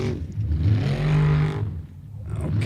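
Off-road race car Brela 2, powered by a blueprinted 427 LS3 V8 of about 700 horsepower, revs hard at a Formula Offroad event, with a loud, wavering engine roar that rises and falls.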